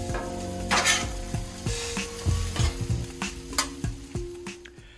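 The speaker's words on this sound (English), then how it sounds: "Now start bringing over your vegetables and your cooked and browned potatoes and give them a few good tosses." Vegetables and browned potatoes are tossed on a Blackstone griddle for corned beef hash: a spatula scrapes and clanks against the metal in quick uneven strokes over a constant sizzle, loud and close, with no talk.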